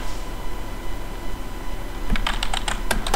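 Keys on a computer keyboard being tapped to enter a nickname, a quick burst of close, crisp clicks starting partway through after a stretch of steady background hiss, with no speech.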